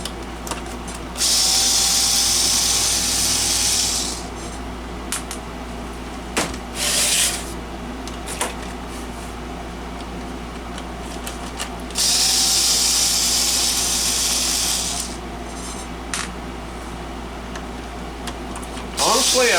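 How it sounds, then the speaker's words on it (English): A power screwdriver removes screws from a Realistic FM-AM auto radio in two long whirring bursts, with clicks and handling noises between them and a steady low hum underneath. "it looks like taking screws out till something comes apart"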